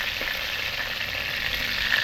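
Steady, broad hiss of food sautéing in a pan, continuous and fairly close, with no talking.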